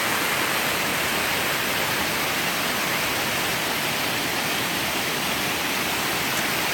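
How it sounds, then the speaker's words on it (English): A waterfall pours down beside a hiking trail in Killarney Provincial Park, a steady, dense rushing hiss close by that stays constant throughout with no talk over it. "Water's coming down quite nicely."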